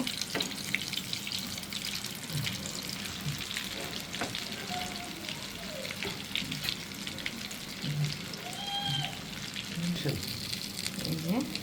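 Chicken kofta, made with country chicken and mung dal, frying in hot oil gives a steady close crackle and sizzle, with a few soft utensil clinks and faint voice-like tones in the background.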